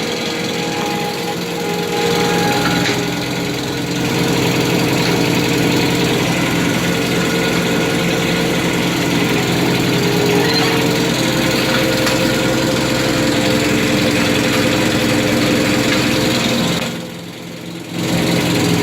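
A Ramrod hydraulic machine's engine drones steadily outside during indoor helical pile installation for underpinning, a loud continuous mechanical rumble with a brief dip near the end.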